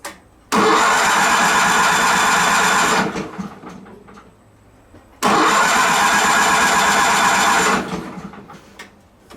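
A John Deere 318 garden tractor's gasoline engine cranks on its starter with the choke pulled, two long loud bursts of steady churning, each about two to three seconds, separated by a pause, without catching.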